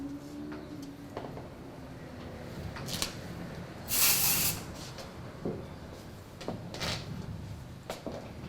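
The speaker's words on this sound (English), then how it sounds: "I just add a little bit dry shampoo to achieve a little bit texture on the top." Dry shampoo is sprayed onto the top of styled hair in one short, hissing burst. Quiet handling clicks and rustles from brushing the hair come before and after it.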